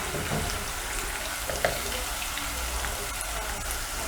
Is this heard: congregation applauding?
no